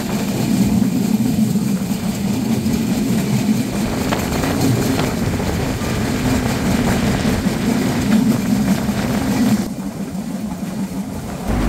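Dhumketu Express intercity train of Bangladesh Railway running from Dhaka to Rajshahi, a steady loud rumble and rattle heard from on board, continuous with no talk.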